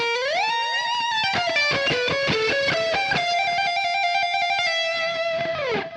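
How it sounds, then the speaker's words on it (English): Electric guitar rips through a fast neoclassical shred run, a rapid cascade of bright distorted single notes climbing and falling, ending on a long sustained note, played alone and close. "this blazing, again, very neoclassical shred run that's at the top"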